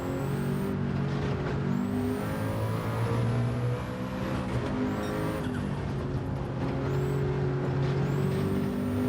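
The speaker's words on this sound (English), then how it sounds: "I'm braking like I'm in the Porsche" A car brakes in Gran Turismo 7 during race practice: a steady engine drone with gear changes and high whistling tones, close and continuous, with no talking over it.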